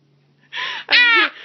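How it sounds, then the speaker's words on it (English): A baby yawns: a breathy intake followed by a louder, drawn-out voiced yawn with a tonal, wavering sound, close and clear with no talking. "Are you yawning?"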